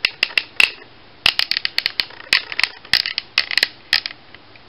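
A Transformers Siege Shockwave action figure's plastic hip joints ratchet forward in a rapid run of sharp, close clicks, irregular bursts and single snaps spread over a few seconds with no talking.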